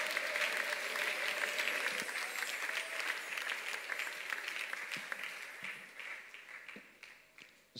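A church congregation at a Sunday service applauding, sustained dense clapping from many hands that tapers slightly toward the end, heard at moderate distance.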